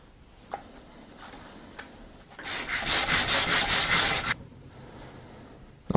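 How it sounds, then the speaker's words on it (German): A yew wood recurve bow limb is sanded flat with about two seconds of rapid rhythmic back-and-forth rubbing strokes, close and loud, between a few faint taps. "Seite komplett plan schleifen"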